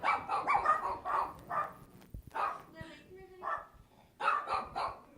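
Several small dogs bark and yip in quick overlapping bursts at a pet boarding business, loud and close, with a person talking between the barks.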